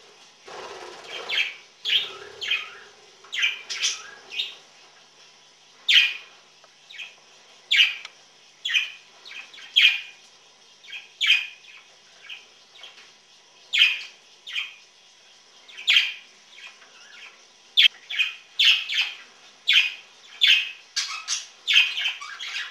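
Budgies chirp and squawk in a rapid, busy series of bright, scratchy calls, close by and clear against quiet.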